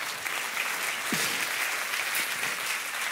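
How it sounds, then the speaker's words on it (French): An indoor audience gives a steady round of applause, dense and even clapping filling the room at moderate volume with no voices over it. "On peut l'applaudir, s'il te plaît."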